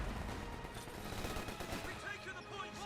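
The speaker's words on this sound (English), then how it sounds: "Got more Bofors artillery fire there." Bofors artillery fire in the World War II strategy game Company of Heroes 2, heard as a dense, loud, continuous barrage of booming bursts and rattling gunfire without a break.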